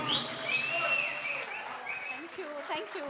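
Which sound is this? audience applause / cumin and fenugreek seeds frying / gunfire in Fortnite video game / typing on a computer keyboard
audience applause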